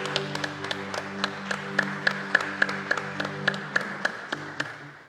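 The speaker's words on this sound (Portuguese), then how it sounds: "Aplauda ao Senhor." A church congregation claps in a steady rhythmic beat, a series of sharp, evenly spaced hand claps over sustained musical tones that fade out at the end.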